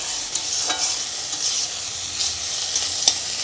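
Chopped onion sizzles steadily in oil in a pan before greens go in, with a continuous bright hiss broken by a few soft scrapes of stirring, close and alone with no talk.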